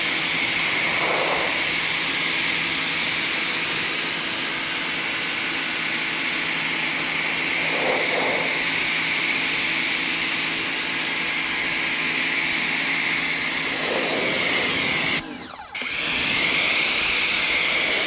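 A Ryobi automotive pressure washer sprays steadily at close range, a continuous loud hiss and motor whine that runs unbroken and briefly cuts out near the end.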